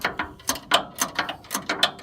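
A ratchet wrench works on the bump stops of a Nissan Hardbody truck, giving about nine quick, close, rhythmic bursts of clicking pawl ratchets with short pauses between strokes and no voices.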